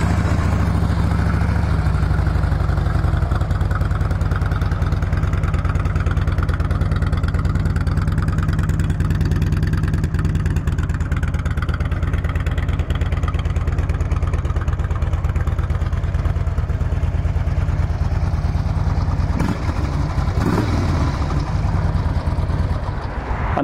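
A fuel-injected 2007 Harley-Davidson Street Glide motorcycle engine runs steadily up close, a loud low rumbling idle with a deep throb that holds for over twenty seconds, plus a brief clunk near the end.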